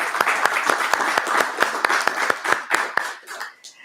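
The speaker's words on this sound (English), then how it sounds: "I think that we could all give her a round of applause" A legislative committee hearing audience gives a round of applause, many hands clapping densely and steadily for several seconds before tapering off, fairly loud and with no talking over it.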